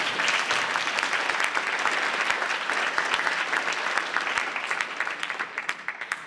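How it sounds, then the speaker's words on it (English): An audience at a public policy panel on young Americans' mental health applauds a speaker, a steady burst of many hands clapping that thins slightly toward the end, with no talk over it. "an applause for Lindsay"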